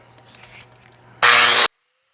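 A Kutzall fine cutter disc on an angle grinder bites into wood with a loud, short rasping grind after a quieter lead-in, then cuts off abruptly into silence.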